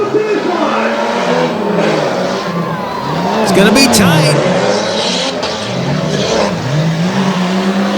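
Monster trucks race on a damp track at Jennerstown, engines revving and swelling in loud, continuous waves with rising and falling pitch, while a commentator talks over the roar.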